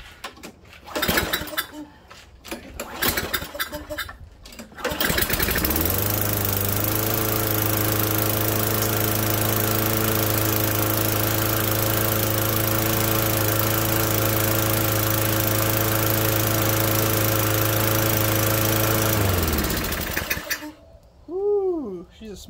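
An old rummage-sale lawnmower engine, smoking from oil in the exhaust, sputters to life after a few rattling pulls, runs loudly and steadily for about fifteen seconds, then cuts out; brief talk follows.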